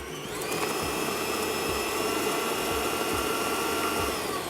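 An electric hand mixer beating butter and sugar, a loud, steady high-pitched whirr with a rhythmic churning thump as the beaters work the mixture, close and continuous, no talk.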